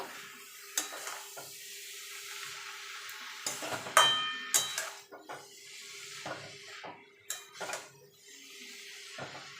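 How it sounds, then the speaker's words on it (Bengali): Cabbage being stirred into fried spice masala for a vegetarian cabbage curry, with a spoon scraping and clanking against the pan in irregular knocks over a soft sizzle. "বাঁধাকপিটা এবার মশলার সঙ্গে ভালো করে মিশিয়ে নেব"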